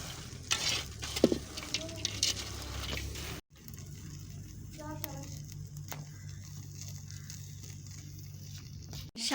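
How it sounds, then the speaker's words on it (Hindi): Peanuts roasting in a pan as they are stirred, a close crackling sizzle with scraping stir strokes, broken by a sudden cut, then a quieter steady hiss; a voice is briefly heard partway through. "नानी अम्मी हमें मूंगफलियाँ भून के दे रही हैं"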